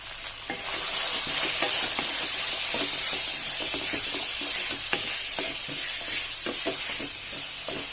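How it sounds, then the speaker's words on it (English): Finely chopped onions sizzle and hiss steadily in a hot pan while being stirred, the spoon scraping and clacking in an irregular rhythm, close and loud with no talking. "So I'm going to let these onions cook for some time"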